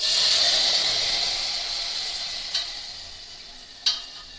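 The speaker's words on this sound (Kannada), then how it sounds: "ಇದು ಒಗ್ಗರಣೆ ಆಗಿದೆ" Tempering spices for idli sambar sizzle loudly in hot oil, a strong steady hiss that fades slowly, broken by two sharp pops or clinks near the end; nobody speaks.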